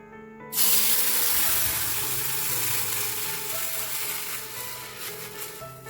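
Wheat flour batter poured into a hot kadai for wheat halwa, bursting into a loud, close hissing sizzle after a brief quiet start, then settling into a steady fry with faint bubbling and no voices.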